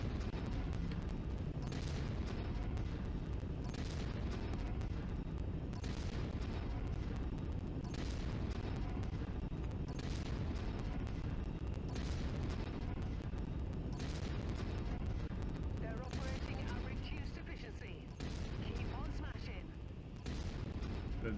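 An LBX-10 autocannon fires repeatedly in the MechWarrior 5: Mercenaries Rasalhague DLC, heavy booming bursts roughly every two seconds over a dense, loud wash of explosions and battle rumble, with no break throughout.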